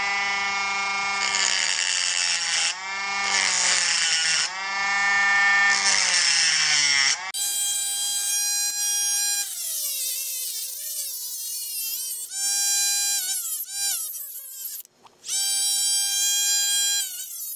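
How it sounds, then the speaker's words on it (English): A Dremel rotary tool cuts excess material from a motorcycle footpeg slider on a KLX140 mini supermoto build, a loud, steady high-pitched whine that rises and falls in pitch as the bit bites and eases off, with brief pauses between passes. "I'm going to try to use the Dremel to cut out"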